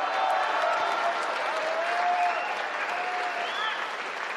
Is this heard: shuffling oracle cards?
no